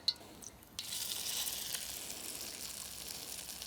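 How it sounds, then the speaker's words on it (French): Small meatballs drop into roughly hot oil and sizzle steadily at moderate volume, cooked over makeshift desert-island camp conditions; the frying hiss starts abruptly and continues alone. "Et là, on va mettre nos petites boulettes, une fois que l'huile est à peu près chaude."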